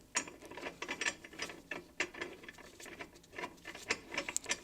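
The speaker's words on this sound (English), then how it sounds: "this is my first time ever threading a nut onto a bolt" Metal clicks and ratcheting taps come from a nut being threaded onto a bolt during a steering build, quiet and close, in an irregular run of small ticks.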